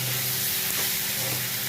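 Banana curry with turmeric and salt sizzles and fries steadily in hot oil in a pan, a continuous close hiss with faint stirring, no voices.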